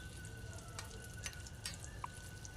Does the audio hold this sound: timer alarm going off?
no